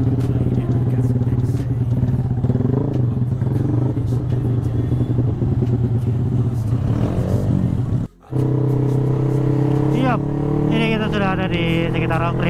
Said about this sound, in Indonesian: kendaraan agak begitu padat ya boy ya